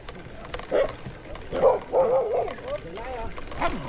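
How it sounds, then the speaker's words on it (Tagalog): Several dogs bark and yip in short bursts at moderate distance, overlapping with people talking nearby. "maraming aso naman"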